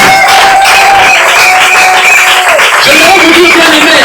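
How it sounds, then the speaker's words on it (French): A church congregation acclaims the Lord with loud, continuous applause and cheering, mixed with raised voices and shouts in a reverberant hall. "Je veux que quelqu'un acclame le Seigneur"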